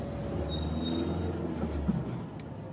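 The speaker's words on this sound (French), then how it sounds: "Donc le métro est là." A Paris metro train rumbles past at the terminus, a low continuous roar with faint high wheel squeals and a brief metallic clank.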